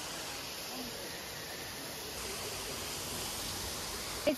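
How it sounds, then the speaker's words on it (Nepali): Jalpari waterfall near Hetauda, Manahari, pouring in a steady broadband roar that stays even throughout, with a brief close knock near the end. "झरना हेर्न सक्नुहुन्छ तपाईँहरूले"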